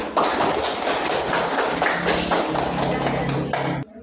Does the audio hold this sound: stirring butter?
no